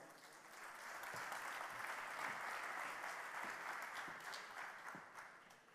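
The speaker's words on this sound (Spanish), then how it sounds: "Quiero que le den un caluroso aplauso a José." Warm applause from a conference audience welcoming a speaker at a talk on pedagogy and critical thinking, a dense wash of clapping that swells and then slowly fades, recorded faint and distant.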